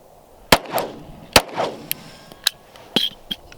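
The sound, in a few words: XD-S Mod 2 9mm pistol fired one-handed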